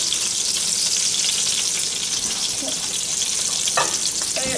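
Food sizzles and fries steadily in a hot pan while pieces are being flipped toward a golden brown, a constant loud crackle with a couple of brief scrapes and clatters near the end, no voices.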